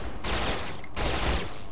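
Two rapid bursts of submachine gun fire rattle loudly in Saints Row: The Third, each lasting under a second with a brief gap between.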